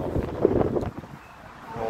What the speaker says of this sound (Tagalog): Oh, mahangin, mahalamig na ang hangin.